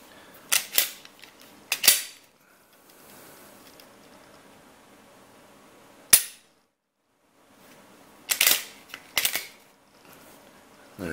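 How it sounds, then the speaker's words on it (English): A Glock 23 pistol's trigger resets with a few sharp, close mechanical clicks, arriving in small clusters separated by quiet pauses, with no voices over them. "The Glock's got a lot stronger click to it that you can also feel."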